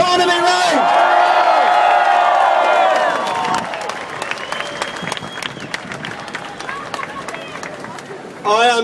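A large rally crowd bursts into loud applause and cheering with whoops for an activist speaker being introduced, a dense roar that eases into lighter scattered clapping with a brief loud swell at the end.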